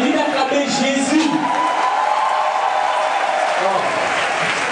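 A church congregation applauding during a Catholic Mass, steady and sustained clapping filling the room for several seconds with crowd murmur mixed in.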